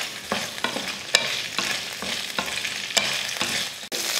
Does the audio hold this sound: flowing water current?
no